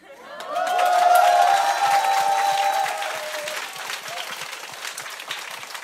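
Audience applause breaks out at a live Korean podcast event, a dense wash of clapping that swells quickly, holds loud for a couple of seconds and then thins out toward the end, with some cheering mixed into the noise.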